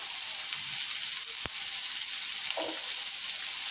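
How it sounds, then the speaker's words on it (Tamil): Ginger and garlic frying in oil for paneer masala, a steady close hiss of sizzling with one sharp tap of a utensil and a faint brief stir. "இதெல்லாம் ஃப்ரை ஆனதுமே கட் பண்ணி வச்சுருக்கேன் வெங்காயம் மொத்தத்தையும் போட்டுருவோம்"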